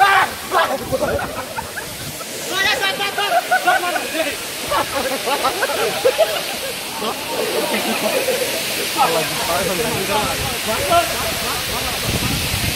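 A large waterfall at Khagrachari roars with steady broadband rushing water, close and loud throughout, with people talking over the continuous spray.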